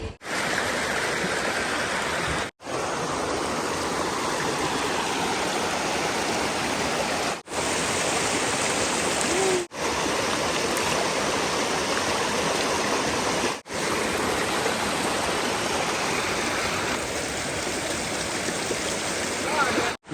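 A river flows in a steady broadband rush, loud and constant with brief interruptions, where people have come to immerse garlands in the water.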